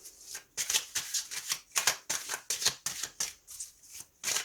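Tarot cards being shuffled by hand, a close, rhythmic series of papery riffles and slaps repeating roughly twice a second, with no voice over them.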